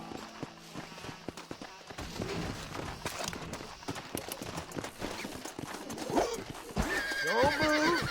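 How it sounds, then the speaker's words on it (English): A horse in the video game Red Dead Redemption whinnies loudly near the end, with hooves clip-clopping and game sounds throughout and a rising neigh over the final seconds. "This steed looks right fetchy, I don't mind telling. Good luck, son. He's a wild one, and no mistake."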